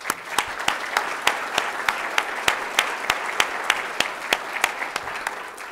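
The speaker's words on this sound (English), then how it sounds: "How about another round of applause?" Audience applause at a university State of the University address at WVU, a steady clapping crowd with a few loud, close, rhythmic individual claps punctuating the wash roughly every third of a second.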